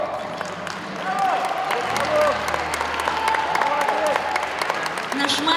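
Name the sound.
audience applause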